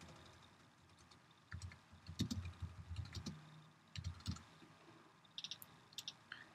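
Someone types a comment on a computer keyboard: quiet, close bursts of quick key clicks separated by short pauses.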